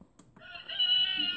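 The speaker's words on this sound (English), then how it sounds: "Rooster. Let's say we want that." An Aogek electronic door chime plays a rooster crow, a rising cock-a-doodle-doo tone, clear and fairly close after a brief quiet start.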